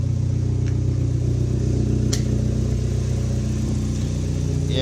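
A Toyota with a patched exhaust leak drives along, its engine giving a loud, steady low rumble and drone from inside the car, with a faint click now and then.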